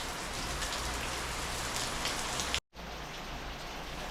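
Steady heavy monsoon rain pours down on a morning in Munnar, a dense unbroken hiss on surfaces with a brief cut partway through, no voices present.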